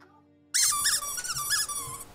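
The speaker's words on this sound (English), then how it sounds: "Is that a squeaky toy?" A squeaker pulled from a torn dog's squeaky toy gives a run of about five sharp, high squeaks, loud and close, after a moment of near silence.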